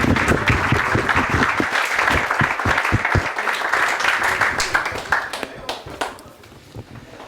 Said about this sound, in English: A round of applause for the group.